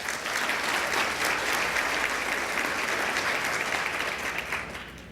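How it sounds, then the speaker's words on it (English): Sustained audience applause at a Louisiana community event honoring a commissioner, dense and steady throughout before tapering slightly at the end, with no talking over it. "Round of applause, please, for him."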